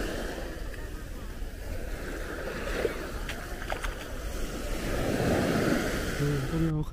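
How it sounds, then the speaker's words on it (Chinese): Big sea waves surge and crash onto the sand at Dadonghai beach on Hainan island at midday, a steady close roar of surf with wind noise that swells louder toward the end. "这个海浪真的好大好大"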